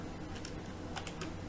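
Typing on a computer keyboard while playing King's Quest 1 on PC, a few soft scattered keystrokes over a steady low hum, fairly faint and close.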